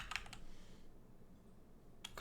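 Brief clusters of computer keyboard keystrokes at the start and end, with a quiet gap between, soft and close.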